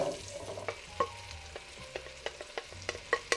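Onions tossed in melted butter and olive oil for French onion soup, sizzling softly beneath a quick series of sharp utensil clicks and scrapes against the pan, with no one speaking.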